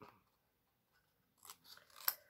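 Scissors snip at an angle through a paper glue tab for a Christmas-paper scrapbook album page, with a couple of quick, crisp, close cuts after a brief quiet pause.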